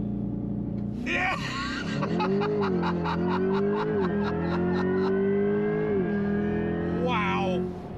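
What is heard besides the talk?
2024 Chevrolet Corvette E-Ray accelerating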